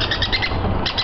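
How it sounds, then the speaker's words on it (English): Cuckoos and other birds calling noisily at sunrise on an African safari drive, a dense chorus of repeated shrill chirps and calls over steady bush background, fairly close and loud, with no talking. "it's the cuckoos who are making the most noise"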